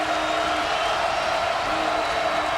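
The home crowd at a Cincinnati college basketball game against UConn keeps up a steady, even roar that fills the arena, with no single shout or burst of cheering standing out.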